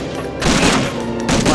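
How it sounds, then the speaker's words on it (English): Gunfire in Medal of Honor: Frontline on PlayStation 2, with two loud, close bursts of shots that crackle and ring over a dense, continuous battle din. "Shot."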